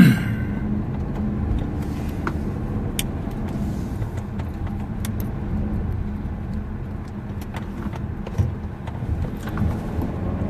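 Steady interior road rumble of a car being driven, a low continuous hum with occasional small clicks and rattles, no talking.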